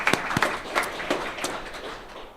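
A crowd claps at a city bus depot reopening event, scattered hand claps mixing into a fairly quiet, brief round of applause with no talking over it.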